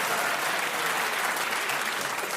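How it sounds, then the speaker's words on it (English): Studio audience at a panel game show breaking into steady applause, a dense continuous patter of clapping filling the room with no voices over it. "You needn't clap every correct challenge"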